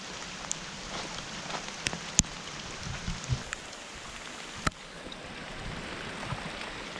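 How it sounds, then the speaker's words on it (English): Heavy rain pours steadily onto a rainforest lakeside at Nahwitti Lake on northern Vancouver Island, a dense, even hiss with a few sharper drops and knocks standing out nearby. "It is like super rainy. Like a rainforest."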